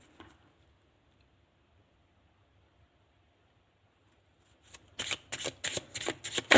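Tarot cards being shuffled and drawn by hand, a quick run of crisp riffling bursts after several seconds of near silence, close and fairly loud.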